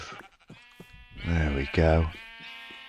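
A Minecraft sheep gives two loud, clear bleats close up during shearing, with a person talking briefly before and between them.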